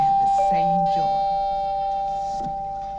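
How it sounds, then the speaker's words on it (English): A doorbell rings with a sustained electronic tone, while a voice is heard briefly alongside it. "She was watching TV when the doorbell rang."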